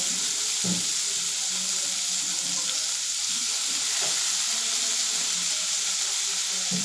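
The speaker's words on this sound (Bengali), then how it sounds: "পেঁয়াজটা আমি ভালো করে ভেজে নিতে হবে লাল লাল করে" Finely chopped medium onion frying in oil gives a constant close sizzle, with a few soft knocks of stirring in the pan underneath.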